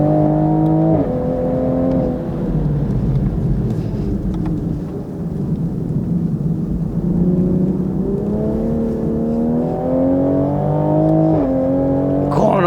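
Tuned Toyota GR Supra accelerating hard around Tsukuba circuit, engine note climbing steadily in pitch through the gears with brief dips at each shift, loud and continuous from inside the car.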